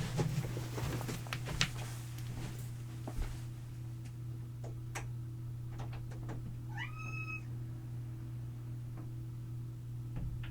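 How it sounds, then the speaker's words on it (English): During a quiet whispering session indoors, a house cat gives one short, faint meow midway, amid scattered soft knocks and taps over a low steady hum. "I'm gonna get this cat because he's being annoying."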